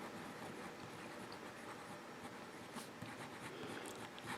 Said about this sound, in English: reverse writing with the Fude nib